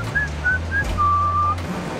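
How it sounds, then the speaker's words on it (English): A person whistles a short tune outdoors on a busy Times Square street in New York City: three brief chirping notes, then one longer held tone, clear and close over a steady low rumble of city traffic. "can you whistle?"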